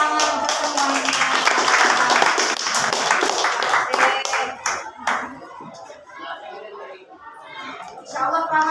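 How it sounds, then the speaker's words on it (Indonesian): Students in a classroom burst into lively clapping, dense and fairly close, with chatter running underneath; the clapping thins after a few seconds and picks up again briefly at the end. "tepuk tangan untuk semuanya"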